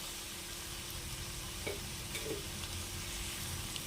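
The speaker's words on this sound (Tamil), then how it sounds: "உருளைக்கிழங்கோட எல்லா சைடும் படுற மாதிரி நல்லா மிக்ஸ் பண்ணி விட்டுறலாம்." Cut potatoes are stirred into masala in a frying pan. A faint, steady sizzle runs underneath, with a couple of soft spoon scrapes near the middle.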